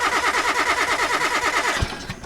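A car engine cranks and catches in Car Mechanic Simulator 2018 after an engine rebuild, a steady rapid pulsing turnover for about two seconds that ends in a couple of low thumps as it fades.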